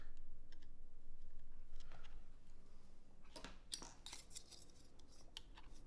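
Rapid clicks and taps come from typing on a prototype keyboard with a ticking space bar, quiet at first and then sharper clacks in brief bursts.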